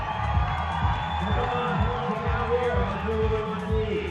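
A large crowd at a bouldering World Cup final in Vail roars and cheers continuously, with a rhythmic thumping beat pulsing underneath the sustained crowd noise.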